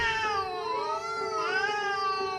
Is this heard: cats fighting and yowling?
yes